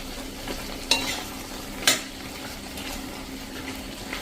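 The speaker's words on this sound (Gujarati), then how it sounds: "અને 1 ટીસ્પૂન જેવું આપણે ધાણા જીરું નાખી દેશું. અને એને આપણે મિક્સ કરી લેશું." A spoon stirs coriander-cumin powder into potatoes and spices frying in a pan, with two clear scraping clinks over a steady soft sizzle, close up and without talk.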